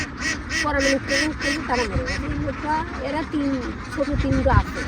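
A flock of ducks quacks in a dense, overlapping chorus as the birds are driven along at the Chalan Beel wetland, steady and fairly close with no clear pauses.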